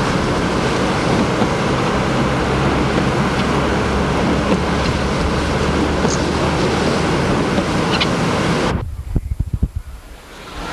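Hurricane Bob's winds howl and roar in a steady, loud rush of broadband noise battering the microphone, cutting off abruptly near the end into a few low thumps.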